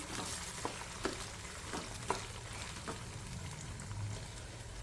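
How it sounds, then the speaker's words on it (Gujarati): Amla gooseberries frying in oil for pickle, giving a steady, soft sizzling hiss with a few light scraping stirs at irregular intervals, close by and without any voices. "કોઈ પણ ભેજ હશે અંદર તો પણ તેલમાં નાખીશું એટલે એ જતો રહેશે"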